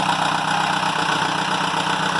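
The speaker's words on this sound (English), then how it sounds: "Here's the engine running." A Perkins 4.108 diesel engine aboard a Vagabond 39 sailboat idles steadily, a continuous, even mechanical drone with a rhythmic low throb throughout.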